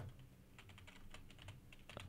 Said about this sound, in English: I'm typing it in, chat.